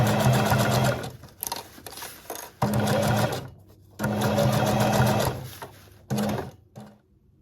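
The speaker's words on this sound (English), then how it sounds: "I'll just do a zigzag stitch all the way around." A sewing machine runs a zigzag stitch through tarp fabric in loud, close bursts of rapid whirring, stopping and restarting several times with short quiet pauses between runs.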